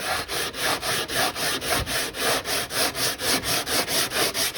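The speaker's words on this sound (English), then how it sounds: "This is the inside that I'm sanding right now" Steady rhythmic rasping of sandpaper on the inside of a wooden farmhouse-style end table, back-and-forth strokes repeating quickly and evenly, close and fairly loud with no talking.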